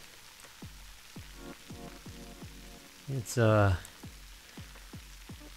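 Packing peanuts dissolving: steady fizzing crackle with sporadic pops, sizzling away, briefly interrupted by a short spoken word midway.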